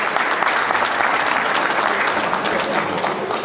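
A crowd applauds a player being introduced before a blackball pool tournament final, a loud, dense, continuous clapping that fills the room without any speech.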